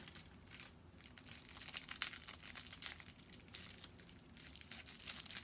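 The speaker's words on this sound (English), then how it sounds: "And this is really crinkly, so I think a bigger piece will look really good." Close crinkling of shiny craft paper as it is twisted into a flower, a run of sharp crackly rustles and scrunches coming in uneven bursts, soft but clear and with no speech.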